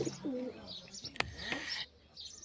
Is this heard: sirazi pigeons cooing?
yes